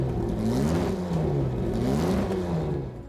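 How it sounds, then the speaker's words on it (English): A Jaguar D-Type racing car engine revs and roars steadily, its pitch rising and falling as it accelerates, loud and close with no voices. "The roar of the engine is pure music to the ears of car enthusiasts"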